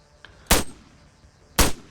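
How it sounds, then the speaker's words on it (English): Arma 3 gunfire: two loud, sharp shots about a second apart, with a faint click before the first, each cracking out and fading quickly over a quiet background. "Don't worry, it's a lot of gunshot, but most of it will miss you."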